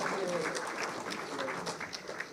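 Brief, fairly faint applause from the audience at a national intellectual property awards ceremony, individual claps audible in a short scattered burst that tapers off.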